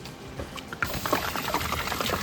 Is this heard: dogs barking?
no